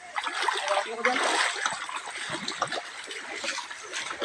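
Water splashing and trickling in a river, irregular sloshes up close with voices talking over and between the splashes.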